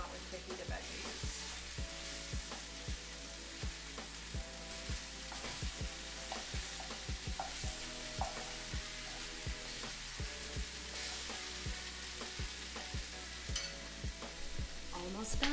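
Fajita vegetables sizzle and crackle steadily in a very hot cast iron pan as they char, with repeated scraping knocks from stirring scattered throughout, close and continuous with no talking.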